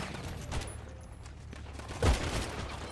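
Gunfire in the video game GTA V roleplay: a quick burst of muffled shots followed by one heavier, booming shot, set against steady background game noise.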